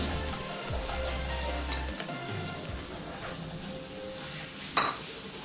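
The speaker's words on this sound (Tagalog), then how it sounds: "Halo lang po ulit hanggang maging translucent po yung sibuyas." Onions sautéing in a pan for ginisang ampalaya sizzle steadily while a utensil stirs and scrapes, with a single sharp clink near the end.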